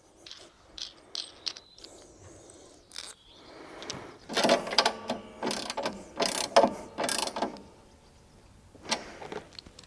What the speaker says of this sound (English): So that's those two tightened up as well with your 13mm spanner